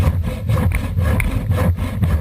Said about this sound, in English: The sawing action itself doesn't take much downward pressure.